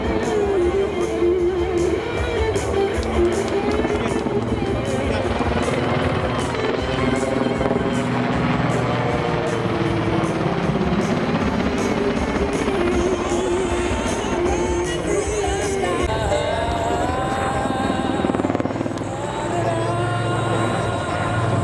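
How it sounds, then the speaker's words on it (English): A Super Puma helicopter flies an airshow display at Leszno, its rotor and turbine roar loud and steady throughout, with a broad rumbling drone and shifting pitch as it manoeuvres, crowd noise faintly underneath. "is now positioning the helicopter for another screwdriver, this time downwards"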